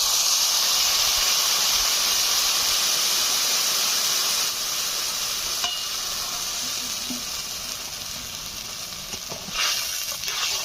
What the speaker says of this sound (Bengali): জলপাই সেদ্ধ জলটা দিয়ে দিচ্ছি।